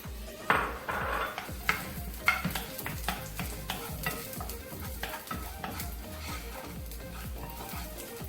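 Garlic sizzling in olive oil in a pan while being stirred: a steady frying hiss with repeated scraping and clinking of a utensil against the pan, close up and with no voices.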